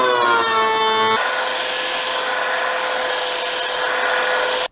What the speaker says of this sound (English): I just want to put the belt sander to it and knock down some high points.